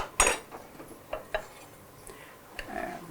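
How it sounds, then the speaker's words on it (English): Cooked meat with dried herring being chopped on a board in a home kitchen, a few sharp irregular knocks and clinks of blade and utensils, close by with pauses between strikes and no talking. "So let's chop the meat."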